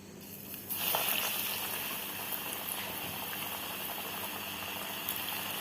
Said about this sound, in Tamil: இப்போ இதை ஆயிலில் போட்டுக்கோங்க